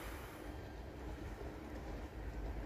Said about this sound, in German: So, und da hinten kommt unser Zug auch schon.